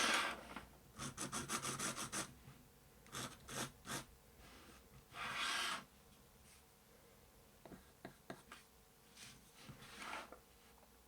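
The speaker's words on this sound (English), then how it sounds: "Just going to give it a little bit of a sand." Light sanding of a coloured-pencil drawing of a robin, quiet close bursts of dry scratchy rubbing in short clusters separated by pauses, faint and without speech.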